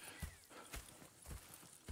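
Hooves clip-clop faintly and rhythmically as a horse walks in the video game Red Dead Redemption 2, with soft, evenly spaced hoof strikes over quiet background ambience.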